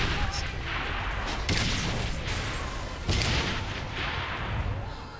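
Grenades exploding on gas pumps in Saints Row: The Third, a dense run of booming blasts with sharp bursts near 1.5 and 3.1 seconds over continuous rumbling game noise.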